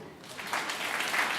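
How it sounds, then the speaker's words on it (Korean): Brief congregation applause during a church sermon, a soft wash of clapping that swells within about a second and stays fairly quiet and distant. "동의한다면 박수"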